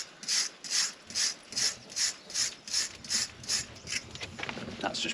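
Scrubbing with a brush, about ten rhythmic back-and-forth strokes, crisp and close, fading into softer rubbing at the end.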